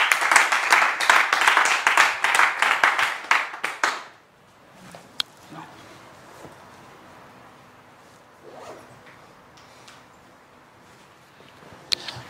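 A church congregation claps fast and steadily for Jesus Christ for about four seconds, then the clapping stops and only faint room noise remains, with a few isolated taps.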